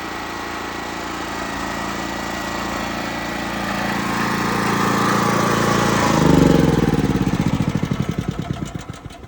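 A portable generator fitted with a bulk fuel tank drones loudly and steadily nearby, rising in pitch and strength before its engine chugs in slowing pulses and winds down at the end.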